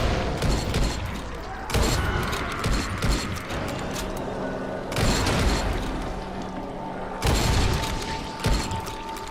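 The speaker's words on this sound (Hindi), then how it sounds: "40 ज़ॉम्बी को बंदूक से मारना है ना?" Heavy bursts of gunfire in Dying Light 2 as zombies are shot, loud repeated volleys with booming impacts and mechanical clatter, coming in waves separated by slightly quieter stretches.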